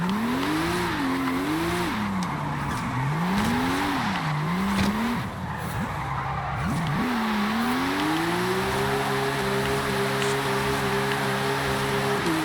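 A Volkswagen car in the Forza Horizon 5 video game, set up with an AWD drift tune, revs hard in first gear. The engine note rises and falls repeatedly, then holds a steady high drone, with constant loud tire squeal and skidding throughout.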